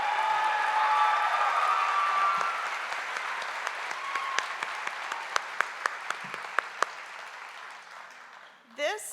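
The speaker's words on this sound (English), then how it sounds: "Let's give her one more round of applause." Audience applause at a school district Teacher of the Year gala, sustained clapping from a large crowd that thins out into a few scattered claps before fading away.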